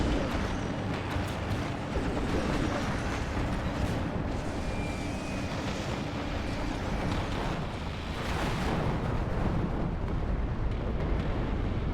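Heavy, continuous rumble of tank battle explosions and destruction in a Warhammer 30K video game mod, Malcador tanks under fire from a Kratos, loud and dense throughout with no pauses.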